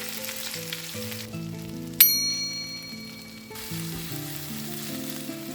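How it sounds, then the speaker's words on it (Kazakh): Turkish-style meatballs (misket köfte) fry hard in oil in a pan over high heat, giving a loud, steady sizzle with a metallic clink partway through as they are stirred. "Фрикаделькені қатты отта 3-4 минуттай жан-жағын қызартып қуыру керек"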